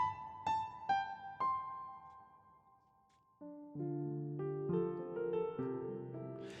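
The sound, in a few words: reverb effect on audio panned to the right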